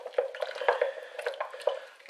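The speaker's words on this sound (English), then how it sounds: "we're going to stir that in with a spoon." A spoon stirs a raw carrot and coriander soup, making close, wet, squishy clicks and drips in an irregular rhythm with short quiet gaps between strokes.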